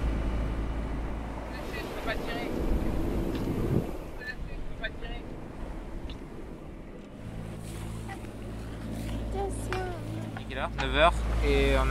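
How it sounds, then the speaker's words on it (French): A sailboat's engine runs at sea in the Mozambique Channel, a low steady hum under wind buffeting and the wash of waves, with people talking over it. "ça fait 9 heures que le moteur tourne"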